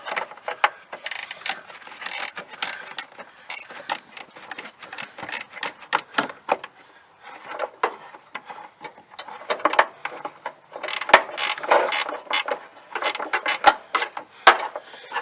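Bolts are worked loose from the battery hold-down bar of a Jeep Cherokee, with quick ratchet clicks in bursts and metallic rattles, close up, pausing briefly midway.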